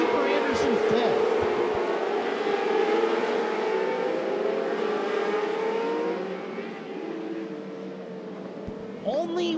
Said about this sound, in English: As they roll in to the checkered flag, a dominant performance by Colin Mackey tonight.